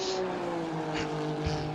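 A GT3 race car crossing the start-finish straight at Imola in a racing game, its engine a steady, loud drone held at high revs for a brief moment.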